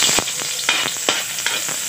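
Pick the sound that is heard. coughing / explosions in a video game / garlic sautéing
garlic sautéing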